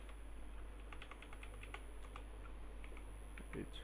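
Rapid typing on a computer keyboard, a steady run of light clicking keystrokes with a few brief pauses, quiet and close, no talking.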